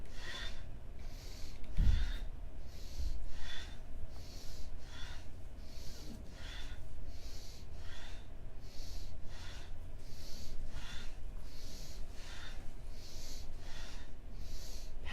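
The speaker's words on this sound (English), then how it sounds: "Powerful breathing, powerful movement." Forceful breathing during a shamanic yoga class, rapid sharp exhales pumping in a steady, even rhythm for the whole stretch, close and without talk.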